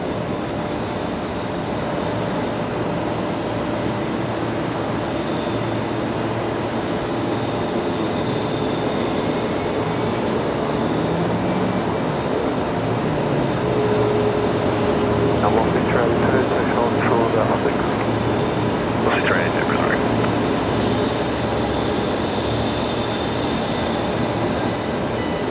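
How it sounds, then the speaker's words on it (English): Boeing 737 MAX 8 jet engines at Brisbane Airport spool up with a steady, distant roar and whine that builds slightly midway, while people talk over it throughout. "We get some awesome spool ups from the Max 8s from time to time"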